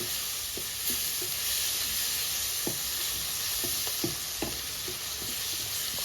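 Ground spices including garam masala and kitchen king masala fry in a pan with a steady hiss and sizzle, punctuated by scattered spoon taps and scrapes as the mixture is stirred.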